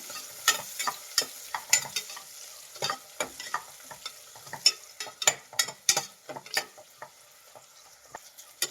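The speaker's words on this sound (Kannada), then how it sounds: "ಈರುಳ್ಳಿ ಸ್ವಲ್ಪ ಫ್ರೈ ಮಾಡಿ" Three medium onions, sliced lengthwise, frying in a pan while being stirred, giving a steady light sizzle broken by frequent sharp scrapes and clicks of the spoon, close and fairly loud with no voices.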